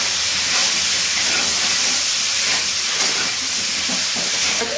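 Chopped tomatoes sizzling as they go into a pan of frying fish, potatoes and brinjal, a steady close hiss of hot oil that runs unbroken throughout with small crackles.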